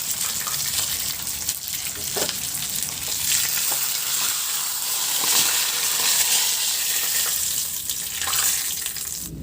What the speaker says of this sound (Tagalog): Nagdagdag lang ako ng kunting mantika at iprito ko na rin itong 2 pirasong tilapia